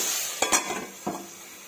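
Onion and tomato fry in oil in a pan, giving a soft steady sizzle with a few close clinks of a spoon against the pan.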